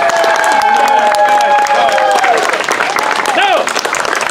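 An audience at a theatre performance of Romeo and Juliet applauds and cheers. The clapping runs loud and close under excited voices and whoops.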